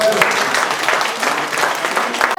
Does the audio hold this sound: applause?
yes